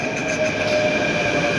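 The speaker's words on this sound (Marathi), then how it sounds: "त्या साईडची मेट्रो आली आता" A metro train pulls into a station platform, its steady rumble and rail hiss filling the space at close range with a sustained tonal whine, loud and continuous with no talk over it.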